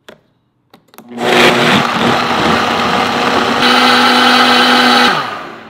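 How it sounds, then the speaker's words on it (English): A blender starts after a couple of clicks and roars steadily for about four seconds blending almonds and water, loud and close, with a churning liquid texture. "We put that all into the blender. Then I added 8 cups of water. We blended all of that."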